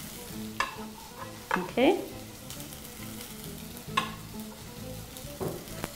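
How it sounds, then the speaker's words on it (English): Onions sauteing in leftover oil for beef stroganoff, a soft steady sizzle with several sharp stirring scrapes and clatters of the utensil; a voice briefly speaks once. "I'm going to use the remaining oil now to saute my onions."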